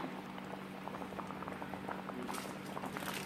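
An Isan-style sour soup made with tilapia heads boils in a pot, giving a steady, close bubbling and pattering simmer that continues evenly throughout with no voices.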